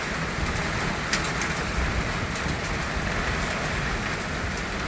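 A hail storm pounds down over Tyabb in a dense, steady, loud roar of impacts that continues unbroken throughout, with no voices.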